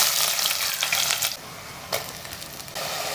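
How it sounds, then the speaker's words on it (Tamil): Spices crackling in hot oil as tempering begins for a fish curry, a steady close sizzle with brief louder spurts and small clinks, no talking. "இன்னொரு பக்கம் நம்ம குழம்பு தாளிச்சிக்கலாம்"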